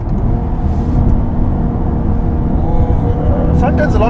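A 2019 Nissan 370Z Nismo engine pulling in fourth gear around 3,000 RPM gives a steady, loud, deep rumble with road noise, heard up close beneath someone talking.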